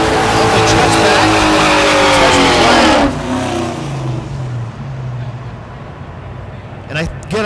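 A Chevelle race car at Thunder Valley in Noble, Oklahoma roars loudly with a high revving engine and sweeping pitch, then drops to a fainter rumble as it passes, with an announcer talking over the track noise.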